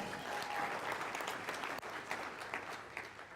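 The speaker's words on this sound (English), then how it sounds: "A round of applause." Applause from an audience of around seventy staff members at a live corporate training event, steady and dense throughout, with a faint voice briefly under it.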